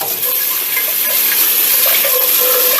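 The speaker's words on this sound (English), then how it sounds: "I'll give this a quick rinse." Kitchen tap water runs steadily while something is rinsed under it, a close, even splashing rush with slight shifts in the flow as the item moves beneath the stream.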